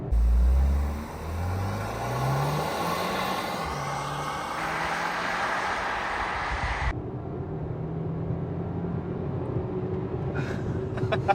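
2024 Hyundai Kona N-line in sport mode building revs against a light brake-boost launch near 6000 RPM, a loud rising engine drone that holds steady, then drops abruptly into a lower idle rumble.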